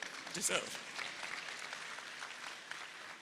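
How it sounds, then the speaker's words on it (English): Applause from an audience at an awards ceremony for the arts, a moderate wash of clapping that swells briefly near the start, then settles into a steady, fairly distant patter. "don't be shy, you can applaud."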